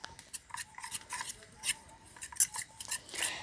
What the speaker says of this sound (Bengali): এই ভিনিগারের সঙ্গে মিশিয়ে নেব